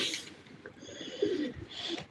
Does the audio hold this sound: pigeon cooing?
yes